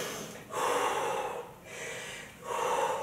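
Heavy, rhythmic breathing after a set of burpees in an equipment-free home workout: close, loud inhales and exhales repeat in a steady cycle, with no speech over them.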